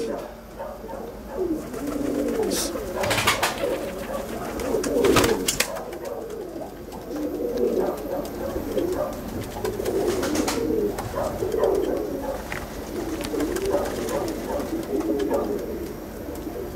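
Racing pigeons coo in a loft, soft throaty rolling calls that overlap and repeat steadily from several birds close by, while someone talks over them.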